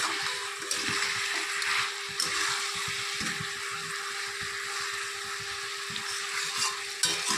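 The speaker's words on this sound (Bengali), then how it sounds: "আবার একটু নেড়ে চেড়ে দিচ্ছি।" Spinach cooked with fish head, potatoes and eggplant is stirred in a frying pan, giving a steady soft sizzle with repeated scraping and stirring taps throughout.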